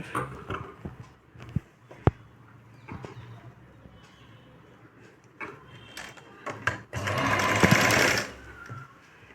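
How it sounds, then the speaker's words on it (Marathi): A sewing machine stitches a sleeveless princess-cut blouse in short bursts separated by pauses and small clicks, ending in a longer, louder continuous run, close up and with no talking. "आता इथे आपण शिवून घेऊ"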